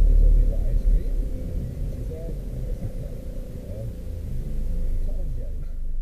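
A steady, low road rumble and wind noise come from a helmet-mounted camera while riding through a small local town, with faint voice-like sounds in the mix.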